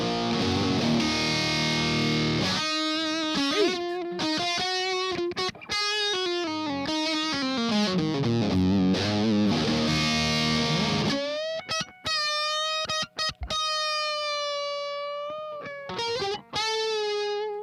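Electric guitar through a distortion pedal's aggressive red channel, playing chords and then sustained single notes, heavily distorted, loud and dry with no reverb, with no voices.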